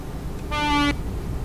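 Truck horn in Euro Truck Simulator 2 multiplayer, a single steady honk of under half a second, moderately loud over a low rumble of road and engine noise.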